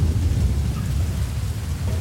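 Heavy rainfall in the video game Metal Gear Solid Ground Zeroes makes a constant close wash of noise with a deep rumbling low end, steady for the whole stretch and free of speech.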